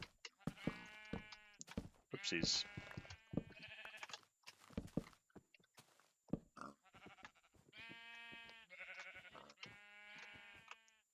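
Repeated sheep bleats from Minecraft's blocky farm animals, several overlapping calls in bursts across the clip with brief gaps, fairly loud and close, with a short spoken word from a player in between.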